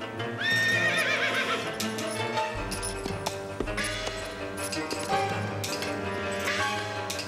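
A horse neighs loudly in a shrill whinny, followed by clattering hoofbeats and thuds, with music playing underneath.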